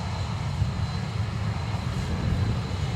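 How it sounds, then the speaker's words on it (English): Thrust reversers on a landing airliner at Dublin Airport produce a dense, continuous roar, strong in the low end and unbroken throughout. "Reversers are loud and clear."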